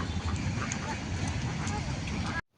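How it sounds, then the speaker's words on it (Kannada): Ducks quack repeatedly near a temple, the calls rising over a busy, steady background with voices mixed in, before cutting off abruptly at the end. "ಇಲ್ಲಿ ಬಾತುಕೋಳಿ ಗಾಡಿ ಎಲ್ಲ ಬರ್ತಾ ಉಂಟು."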